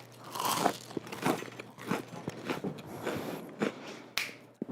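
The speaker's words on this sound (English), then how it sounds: "Listen to that crunch." Crisp, repeated crunching from bites into a fried funnel cake cannoli, several sharp crackly bursts spaced over a few seconds, close and fairly loud with no talking.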